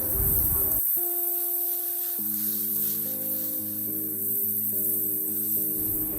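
Potatoes and vegetable stalks frying in a pan give a steady, close sizzling hiss that runs beneath sustained musical tones.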